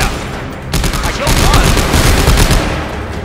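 Dense, continuous automatic gunfire in the video game Coronavirus The Game 3, a loud sustained fusillade of rapid overlapping shots that swells after a brief lull.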